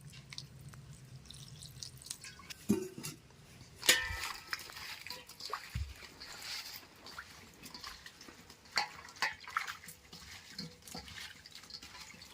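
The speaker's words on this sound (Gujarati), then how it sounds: "તો આપણે કંટોલા ધોઈ નાખીએ પાણીથી।" Spiny gourds (kantola) being rinsed under water in a kitchen, with soft intermittent drips and trickles, light splashes and a few knocks against a vessel, fairly quiet and close.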